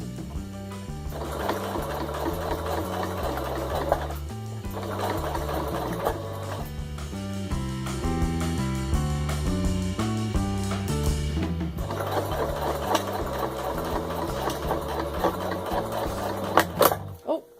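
Sewing machine stitching gathers into a towel, running in steady rhythmic stretches with brief pauses and changes in pace, close and clear without talk.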